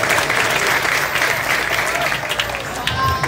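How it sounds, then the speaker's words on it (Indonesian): A crowd at a Maulid Nabi religious gathering in Pejaten applauds continuously, a thick wash of clapping filling the whole moment with a faint murmur of voices beneath it. "Tepuk tangan semua tuh."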